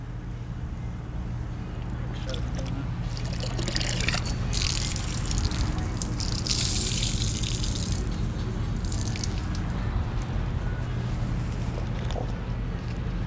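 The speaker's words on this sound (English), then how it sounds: "go over to your second bucket and then run it down against the dirt trap" A wash mitt is rinsed and scrubbed against a dirt trap in a bucket of water during a two-bucket hand wash of a Nissan GT-R, giving a continuous close sloshing and swishing with a brief louder splash midway.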